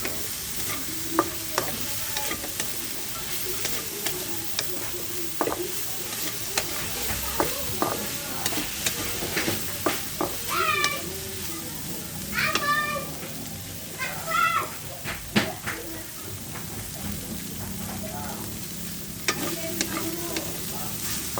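Tofu for sisig sizzles in a pan while a utensil scrapes and stirs it in irregular strokes, close and continuous, with faint meow-like squeaks breaking through now and then.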